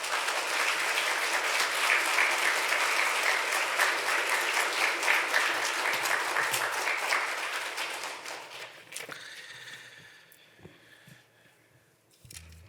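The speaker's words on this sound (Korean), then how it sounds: "큰 박수로 환영해 주시면" A church congregation applauds steadily and loudly for several seconds to welcome a pastor, then the clapping thins out and fades to a few scattered claps.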